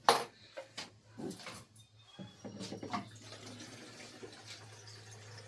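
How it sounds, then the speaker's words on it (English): Water is poured and splashes while rabbits are being watered in a farm shed, a close, irregular trickling and sloshing over a steady low hum, with no talking. "right now we're just finishing up watering the rabbits"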